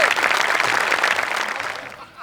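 An audience bursts into loud, sustained applause for the winner of a best javelin throw award at a stage show. The dense clapping fills the whole stretch and fades slightly near the end, with voices mixed in.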